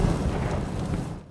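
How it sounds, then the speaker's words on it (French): A deep, rumbling boom from a flammable liquid storage tank explosion in Valley Center, Kansas, with a broad low roar that holds steady, then tails off at the end. "une explosion dans un stockage de liquide inflammable"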